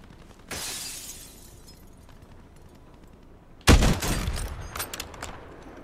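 Gunfire in the video game Warzone: a sharp distant sniper shot early on, then a louder cracking burst of shots with echoing tail near the end, no voices.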